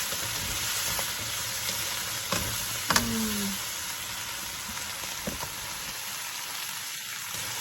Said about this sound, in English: Saute it back and forth.